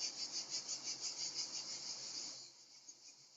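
Cicadas buzzing in a pulsing, rhythmic drone outdoors on a summer evening, fairly close and steady, then dropping off abruptly partway through, leaving quiet background.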